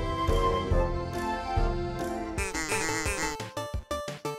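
Alien flies buzz in a duck mini-game video game, heard as loud, harmonic electronic buzzing tones that shift in pitch and break into rapid choppy pulses toward the end.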